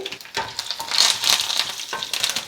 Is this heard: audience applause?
no